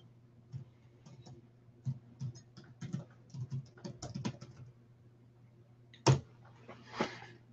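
Keystrokes on a computer keyboard as a chat message is typed, irregular bursts of clicks and taps with brief pauses, close and fairly quiet, ending in a couple of louder key hits.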